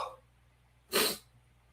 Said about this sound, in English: I am just sneezing here.